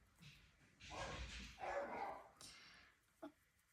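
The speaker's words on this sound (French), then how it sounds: "J'ai le chien qui s'excite en haut" A dog barks and yips excitedly upstairs in a house, several muffled, distant bursts with a whine-like edge, faint and indoors, with no talking.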